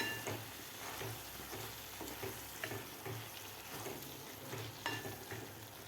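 Soaked rice stirred into frying masala for a whole masoor lentil pulao, soft sizzling with repeated rhythmic scrapes and stirring strokes in a pan, close and fairly quiet, without talk.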